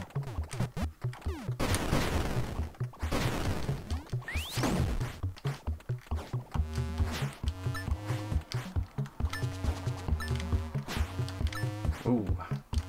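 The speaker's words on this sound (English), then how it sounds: "There you go, throw some bombs." Bombs going off in the Zelda-style adventure game Blossom Tales, several sharp booming blasts with whooshing debris followed by bright chiming tones, under a voice talking.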